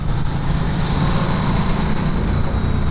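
A 2019 Ducati 1260S Diavel motorcycle engine running at half throttle while riding, a steady continuous engine drone with wind rush and no clear rise or fall in pitch.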